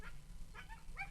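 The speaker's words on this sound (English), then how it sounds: "Is that why the dog is making so much racket?" A pet dog named Duchess shut in a crate inside a truck in a parking lot barks in a few short, distant, muffled bursts against low background rumble, heard through an opened window.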